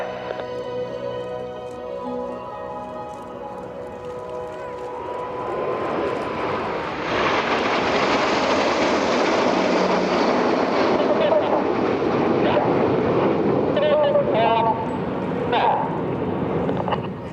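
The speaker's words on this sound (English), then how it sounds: "As the aircraft sweep in from the right-hand side" A formation of seven RAF Red Arrows display jets sweeps past at an airshow, a broad, rising jet roar that swells midway and holds loud to the end, with commentary over it.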